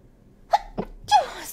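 A single close sneeze from one person, with a short inhale and catch followed by a loud, breathy burst, in a quiet room.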